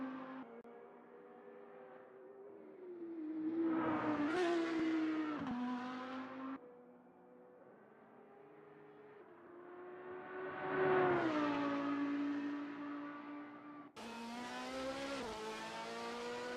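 Race car engine from the SimSpeed Super GT sim racing game, revving and braking through turn 9 on a qualifying lap, pitch climbing and dropping twice with a possible tire squeal, followed by another car's engine at the end, no talk.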